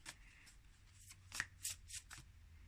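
A deck of oracle cards shuffled by hand up close, a run of soft riffling flutters and light card slaps, fairly quiet against a still room.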